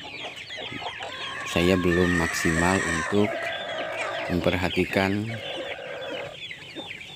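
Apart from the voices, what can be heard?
free-range chickens clucking on the farm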